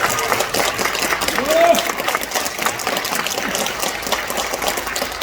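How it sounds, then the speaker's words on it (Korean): Crowd at a political candidate's election announcement and press event applauds in a steady, moderately loud wash of clapping for several seconds, with some voices and murmur mixed in. "다시 한번 큰 박수 부탁드리겠습니다"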